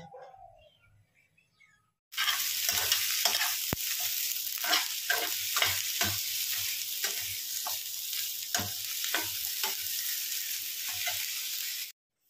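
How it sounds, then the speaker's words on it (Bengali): Cumin seeds tempering in hot oil in a wok, an abrupt loud sizzle that starts after a quiet moment and crackles steadily with repeated sharp pops, with faint bird chirps in the background. "দেখো কড়াইয়ের মধ্যে তেল দিয়ে দিয়েছি, আর তার মধ্যে জিরে ফোড়ন দিয়ে দিলাম।"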